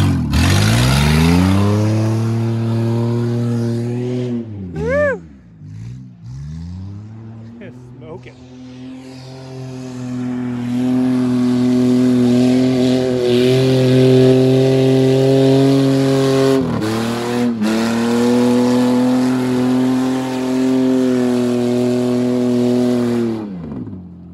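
A race car engine drones and revs, the pitch rising and falling as the car brakes and powers around a corner, then climbs steadily again. The car stays loud and close throughout, and people talk now and then.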